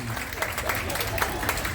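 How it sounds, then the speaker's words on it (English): Audience applause at a cruise ship game show aboard the Enchanted Princess, a dense burst of clapping from a crowd that continues steadily for a couple of seconds, with a host's voice over it. "That's a big round of applause for Nathan."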